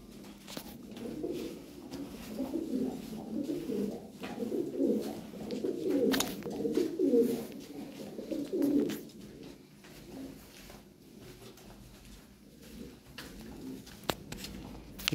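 Lahori pigeons coo softly in a steady, low burbling run for several seconds, moderately close, with faint rustles and a few sharp knocks in the background.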